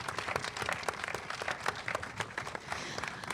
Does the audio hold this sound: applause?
yes